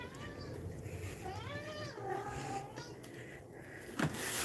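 A house cat meows for treats in a kitchen: a few drawn-out, rising-and-falling meows over steady background hum, followed by a brief knock near the end.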